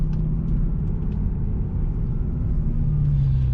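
A BMW M6 with its V10 engine holds a steady, loud low rumble at close range, a constant droning note through the whole moment with no voices over it.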